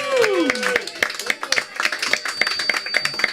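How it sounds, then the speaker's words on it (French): A live show audience claps for a guest named Frédéric, scattered sharp hand claps following a brief sliding tone, moderately close and uneven in rhythm. "applaudit Frédéric"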